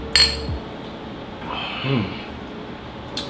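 A bright clink of glasses near the start, then low voices murmuring and a faint second clink at the end.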